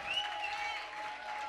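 A church audience claps in praise, a steady wash of applause heard faintly and at a distance for a brief moment, with no voices over it.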